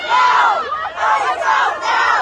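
Chaotic crowd shouting on Canal Street as federal agents raid illegal street vendors, a dense wall of loud overlapping yells and cries that swells and dips continuously without pause.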